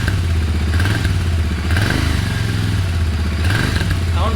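Close up, a stock Royal Enfield Interceptor GT 650 motorcycle with no modifications is revved several times, its engine swelling in repeated blips before settling back to a loud, lumpy idle between them.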